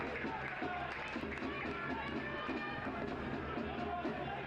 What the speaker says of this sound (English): You can hear the Union Omaha home crowd celebrate as a yellow is shown to Edwards